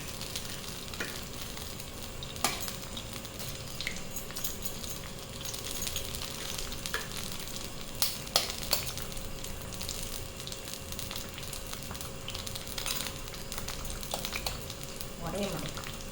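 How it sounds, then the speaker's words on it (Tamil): Four eggs frying in oil in a pan for egg fried rice, a steady close sizzle with faint crackles and occasional stirring clatter, a voice murmuring now and then. "ஊற்றிட்டு முட்டை 4 உடச்சி உள்ளே ஊற்றிடுங்க."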